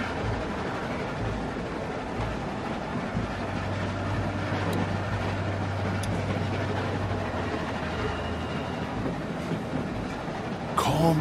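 A moving train in the Telltale game The Walking Dead, Episode 3 'Long Road Ahead', rumbles steadily with faint rhythmic clacking throughout. No one speaks.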